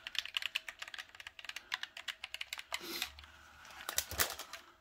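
Someone types on a ROCCAT Vulcan RGB gaming keyboard: rapid, crisp key clacks in uneven bursts, close up, with a few heavier thocks near the end and no voices.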